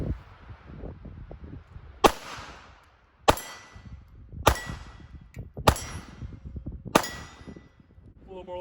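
Five sharp pistol shots from a Mauser Model 1914 in .32 ACP, crisp and close with short ringing tails, fired at roughly one-second intervals over a low background rumble.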